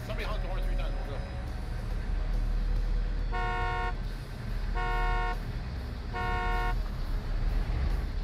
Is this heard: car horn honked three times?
yes